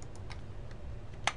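Keys on a computer keyboard click a few times, sparse and faint, against a quiet background hum.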